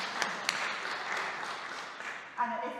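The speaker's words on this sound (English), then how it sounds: "Let's give them a round of applause" Church congregation applauding during a harvest communion service, a steady wash of clapping filling the room for a few seconds, with a brief burst of talk near the end.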